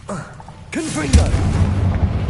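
A Confringo fire-blast spell goes off in Hogwarts Legacy with a booming burst that rolls on loudly after an opening stretch of voice, the rumble lingering to the end.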